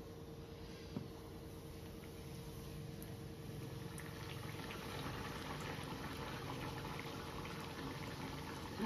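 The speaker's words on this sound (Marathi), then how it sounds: "मी आता तेलात टाकते." A bhatura deep-frying in very hot oil makes a soft, steady bubbling hiss that rises slightly over time, faint and continuous with no speech.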